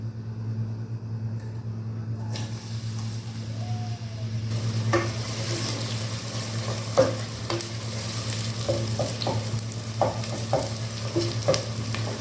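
Finely chopped onions fry in half a cup of oil for aloo baingan, a soft continuous sizzle over a steady low hum, broken by scattered utensil clicks and stirring scrapes, with no voices.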